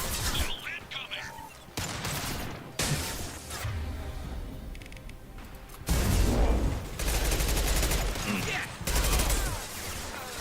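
Sustained gunfire bursts and heavy impacts in the video game Mass Effect 2, loud and dense, in long stretches broken by short gaps, with a voice talking over parts of it.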